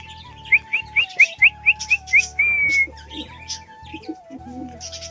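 Pet pigeons outside are called with a quick run of about eight high, chirpy calls, followed by one longer drawn-out whistle. A low steady hum sits underneath.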